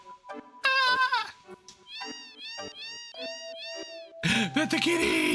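A cat meows repeatedly while being petted in Final Fantasy VII, a series of loud, close, drawn-out meows in an uneven rhythm, ending in a noisier burst.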